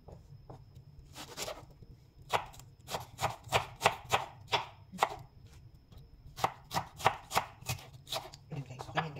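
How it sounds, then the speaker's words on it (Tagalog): A knife chops freshly harvested produce on a board, crisp irregular strokes in quick clusters and short pauses, close and fairly quiet, with no talking. "Kanina pa ako naghihiwa."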